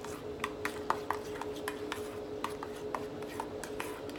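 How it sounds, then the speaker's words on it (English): A spoon stirring cashew sauce in a pot, light scraping and repeated soft clinks against the metal, steady and close, with a faint hum underneath. "And then give it a stir."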